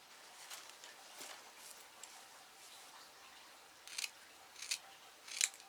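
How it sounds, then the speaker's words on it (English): Scissors snip around a plastic plant pot to cut a circle out of its bottom, quiet irregular clipping that grows into three sharper, louder cuts near the end. "I think what I'm going to do is just go around, cut this circle out"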